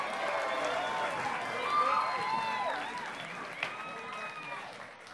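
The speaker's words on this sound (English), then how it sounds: "Give another round of applause." A live-music venue audience claps and cheers for a band after a song, a steady wash of applause at moderate distance that holds for several seconds without a break.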